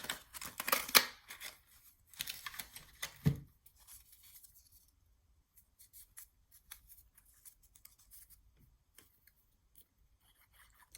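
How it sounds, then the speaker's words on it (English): A tab punch cuts a paper tab for a handmade mini album, with short crisp bursts of paper snipping and crunching ending in a firm punch thump, then faint rustling and handling in a quiet room. "I'm just using my tab punch here. I'm cutting one out."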